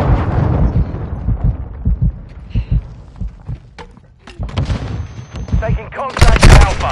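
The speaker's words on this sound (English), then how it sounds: "Friendly cruise missile inbound" A friendly cruise missile strike in a video game, with a dense roll of heavy booms and rumbling blasts that fades away, then rises again into loud explosive impacts and crackling debris.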